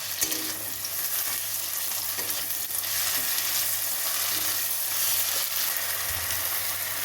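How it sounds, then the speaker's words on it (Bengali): Ginger garlic paste frying with browned onions in a pan for a chicken keema and peas dish, a steady close sizzle with intermittent stirring scrapes. "এবার আমি আদা রসুনের পেস্ট দিয়ে দেবো দেওয়ার পরে এটাকে ভালো করে নাড়ি ছাড়িয়ে নিতে হবে"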